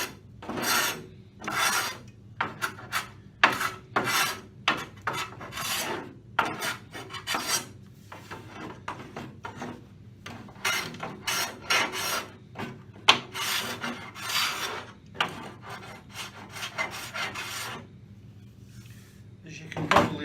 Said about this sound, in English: A quick way of doing that is simply by using a block plane, and in doing this you're just shaving the top of the adhesive